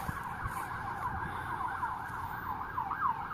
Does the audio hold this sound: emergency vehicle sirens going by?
yes